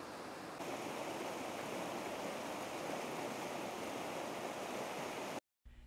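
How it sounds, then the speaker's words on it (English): An isolated mountain creek in the Cascades flows steadily with a dense, even rush of water, close and continuous, cutting off abruptly near the end. "We're deep in the Cascades, and it's just this nice isolated creek out here."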